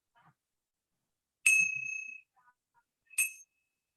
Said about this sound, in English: I'm going to ring the bell to get us started